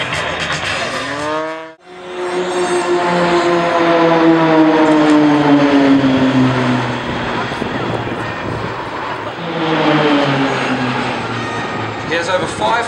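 Aerobatic propeller plane tumbling through its own smoke at the 2013 Australian International Airshow, its engine loud and near, whining up and down in pitch with a sudden brief cut, while an announcer talks over it.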